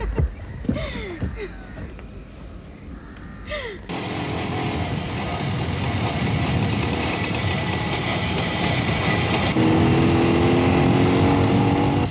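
A motorbike starts up and rides off, its engine noise rising from near silence into a steady, loud, sustained drone that continues to the end; a few sounds come first, and there is no clear talk over the engine.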